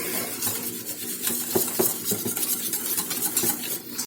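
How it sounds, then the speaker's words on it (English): A whisk stirs cheese into a thick, creamy sauce in a pot, making a continuous close scraping swish with scattered light metallic clinks against the pan. "So a little bit of cheese, stir that in, a little bit more, bit by bit."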